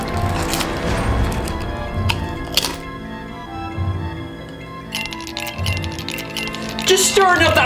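Ice stirred in a drink, with intermittent glassy clinks and rattles of cubes against the glass, fairly close, mixed in with steady tonal background sound.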